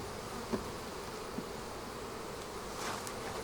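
Honeybees buzzing around an open hive box, a faint continuous hum with occasional closer individual bees passing by, no talking.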